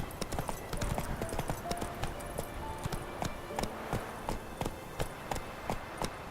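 Roach the horse's hooves clop steadily on the ground in The Witcher 3, a quick rhythmic trot running throughout, close and fairly loud, with no clear talking.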